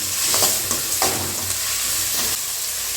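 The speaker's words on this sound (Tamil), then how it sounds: "வெங்காயம் ஒரு அளவுக்கு வதங்கினோம் பூண்டு சேர்த்து வதக்கணும்" Onion and garlic sautéing in a pan for village-style egg tikka masala, a steady close sizzle of frying with repeated scraping stirs, alone with no talking.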